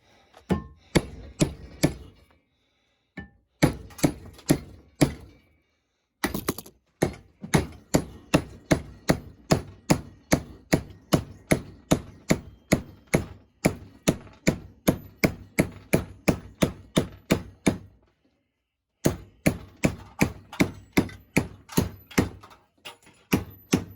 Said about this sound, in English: bigger hammer, 5-pound sledge, safety glasses